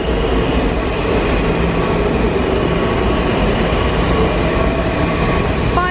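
Loud, continuous rumble of a Washington DC subway train running on the tracks, steady roar with metallic rattling and a faint squeal, no voices.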